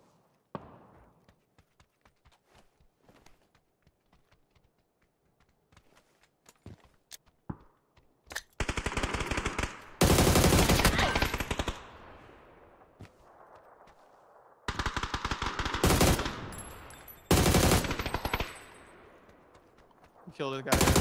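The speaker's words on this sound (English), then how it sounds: "Where the fuck are my bullets going?" Gunfire in the video game PUBG crackles in dense loud bursts after a quieter opening of scattered clicks and footsteps, several sustained volleys separated by short pauses, with a voice talking over parts of it.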